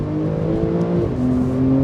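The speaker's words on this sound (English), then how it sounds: "You've also got sports exhaust as well here, and the tune that produces is incredible." Porsche 911 (992) Turbo S with sports exhaust, a loud steady engine drone heard from inside the car that rises in pitch partway through, without speech.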